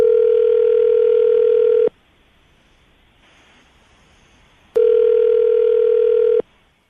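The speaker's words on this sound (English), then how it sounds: "I'm going to dial the phone number right now," Steady telephone dial tone sounding loud and close for about two seconds, a quiet pause, then the same tone returning for another two seconds before cutting off, with no talking.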